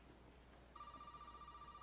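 Telephone ringing in the horror video game Resident Evil 7, a steady electronic ring tone that starts partway through and continues evenly, fairly faint against a quiet background hum.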